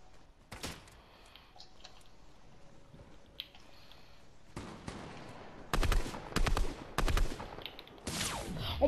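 Gunfire in Fortnite, scattered faint shots early, then several loud sharp cracks and bursts in quick succession near the end, with no talking.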